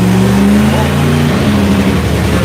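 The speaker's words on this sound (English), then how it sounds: "I think it's a funny car fire up out here" An NHRA funny car drag racer engine fires up in the pits at a Virginia nationals event, a very loud, rough, raspy roar that dominates throughout as the revs rise and fall.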